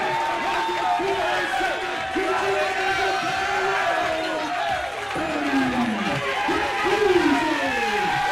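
Loud, continuous crowd cheering and roaring at a wrestling event after a win, with whoops and bellows rising and falling across the whole stretch and an announcer's voice talking over it.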